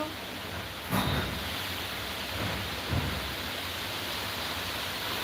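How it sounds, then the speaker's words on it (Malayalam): Dense, loud rain roars continuously with a windy hiss, and a couple of brief gusty swells rise above the downpour. "ശക്തിയുള്ള മഴയും കാറ്റുമാണ്"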